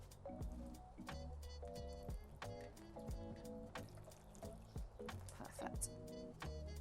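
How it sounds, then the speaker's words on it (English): Water is poured onto the soil of a newly potted tomato plant, giving a close run of wet splashes, trickles and drips, with soft handling noises between pours. "Now to water it in, so that the water settles into the roots."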